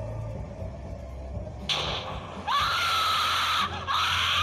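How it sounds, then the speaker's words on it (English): A scream in a Minecraft PE horror map, rising in a loud, sustained wail over a low rumbling ambience, breaking off briefly and resuming. "What was that scream?"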